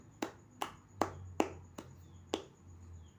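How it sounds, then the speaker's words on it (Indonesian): Six or seven sparse, sharp hand claps, unevenly spaced and fairly close, for a student named Mbak Lisa in an Indonesian primary school maths lesson, with a low hum underneath. "Tepuk tangan dong untuk Mbak Lisa"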